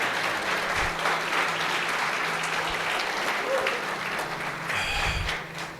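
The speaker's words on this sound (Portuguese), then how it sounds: "Isso, aplauda o Senhor" A church congregation applauds steadily at a worship service, the broad wash of clapping holding even over a low musical hum, with voices faintly underneath.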